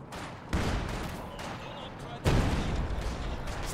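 Artillery barrage in a multiplayer strategy game match, heard as two heavy broadband blasts about two seconds apart, each leaving a sustained rumbling wash of distant explosions and fire underneath a commentator's voice.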